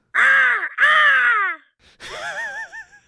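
Crows cawing as a played sound effect: two loud, close, drawn-out harsh caws followed by a wavering, warbling call, standing alone against silence.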